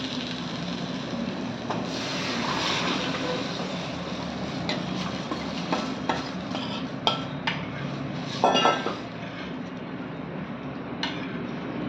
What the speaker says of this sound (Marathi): आता आपण यामध्ये शिजवलेली डाळ घालणार आहोत.